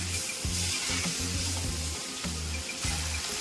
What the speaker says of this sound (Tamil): குழம்புக்கு வெங்காயம் நல்லா வதக்கிட்டு தக்காளி சேர்த்துக்கிறேன்